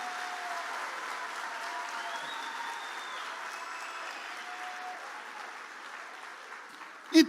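Church congregation applauding during an evening family worship service, a sustained wash of many clapping hands with faint voices and cheers mixed in, ending with a sudden louder knock.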